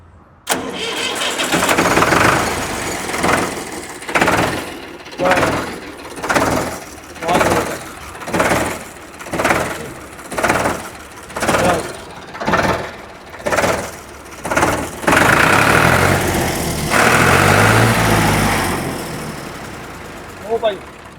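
A Ford tractor engine cranks and chugs in a rhythmic series of surges, then settles into a loud, steady idle close by before fading.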